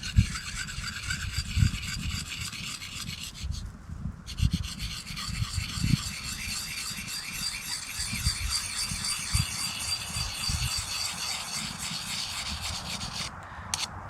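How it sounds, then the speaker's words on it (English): Bushcraft knife bevel being cleaned and honed: continuous close rasping and rubbing strokes with a scratchy texture, steady throughout, and no talking. "So I'm just removing some of the dirt from the bevel and standing the edges back up."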